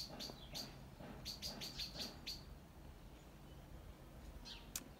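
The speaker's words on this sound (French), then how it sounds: "Je suis un peu déconcentré par l'oiseau en fait." A bird sings outdoors in a run of bright, quick chirps and tweets that repeat in bursts over a soft background, with a single sharp high note near the end.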